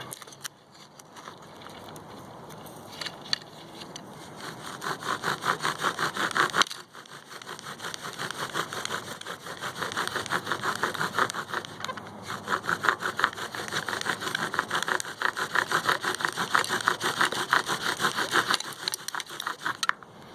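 A wooden bow drill spindle spins against a wooden fire board, giving a continuous rasping, squeaky friction in rapid back-and-forth strokes, fairly close and moderately loud.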